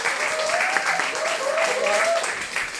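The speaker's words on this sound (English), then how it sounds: "Let's just give her a round of applause for her." An audience at a women's community gathering gives a brief round of applause for a woman named Christina, the clapping mixed with overlapping voices.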